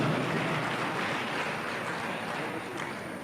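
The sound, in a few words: audience applause for Indonesia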